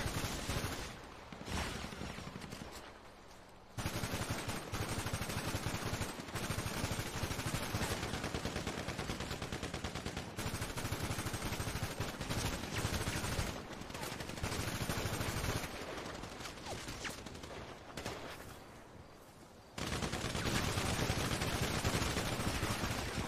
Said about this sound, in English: We're getting shot in the rear.